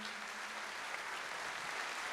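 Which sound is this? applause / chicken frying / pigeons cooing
applause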